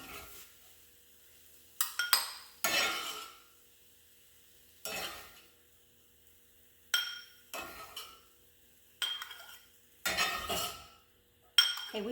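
Onions are dry-sautéed in a pan without oil, heard as intermittent bursts of scraping and stirring with a utensil, clinks against the pan and brief sizzles separated by quiet pauses.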